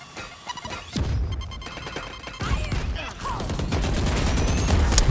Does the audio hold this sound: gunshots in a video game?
yes